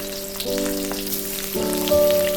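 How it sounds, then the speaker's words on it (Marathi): Grated coconut dry-roasting on a hot tawa griddle until reddish, for a spicy village-style Maharashtrian curry, giving a steady, close crackle and faint sizzle throughout, with a sustained tonal drone that shifts pitch twice running underneath. "तावा ठेवला आहे खोबरं भाजून घेऊ खोबरं छान असं लालसर भाजलं"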